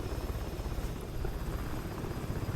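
An MH-60L DAP helicopter in the video game War Thunder gives a continuous rhythmic rotor thump over a dense engine whine, loud and close throughout, with no speech.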